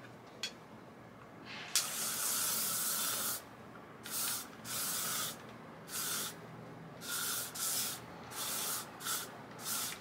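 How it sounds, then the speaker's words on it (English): Bursts of L'Oreal Extra Strong Unscented hairspray from an aerosol can, a long loud hiss followed by a rhythmic series of shorter close sprays, with no talking. "I do like a spray over with the L'Oreal Extra Strong Unscented"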